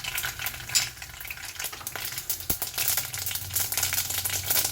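Curry leaves hit hot sesame oil while mango pickle is being made, giving a loud, close crackling sizzle with sputtering pops that holds steady throughout.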